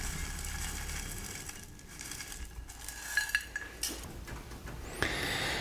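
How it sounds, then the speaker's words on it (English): Akadama and pumice bonsai substrate is poured into a pot, a gritty granular rustle with scattered light clinks and rattles of particles, quiet and close, no voices. "Now I will just add a little bit of mixed substrate. In this substrate is akadama and pumice. I will put it on the center of the pot like this."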